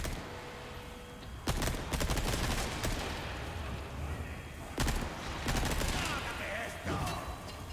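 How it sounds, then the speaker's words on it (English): Bursts of gunfire in the video game Resident Evil 4 (2023), loud repeated volleys of shots at irregular intervals over constant background game noise. "I'm trying to shoot dynamite guy"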